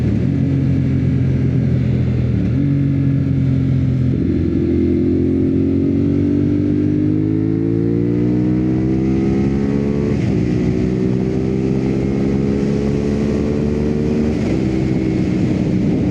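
A 2024 CFMOTO 450SS motorcycle being ridden, its engine loud and close with a steady hum that climbs through the gears, dropping in pitch at each shift before rising again, with no talk.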